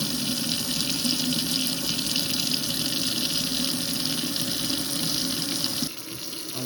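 Kitchen sink tap running steadily for about six seconds, a constant loud splashing rush into a slow-draining sink, dropping off sharply near the end.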